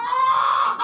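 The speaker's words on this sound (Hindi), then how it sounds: "ये एक मुर्गी फिर रही है, आवाज़ें दे रही है।" A Golden Misri chicken in a farm shed gives a single short, loud, close-up call, under a second long, with no other sounds around it.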